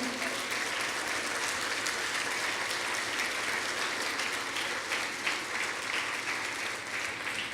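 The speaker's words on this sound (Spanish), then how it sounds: "Dale un aplauso fuerte al Señor" Church audience giving a long, sustained round of applause, a dense wash of many hands clapping at steady loudness throughout.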